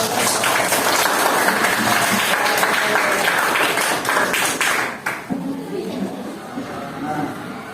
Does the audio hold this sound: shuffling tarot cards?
no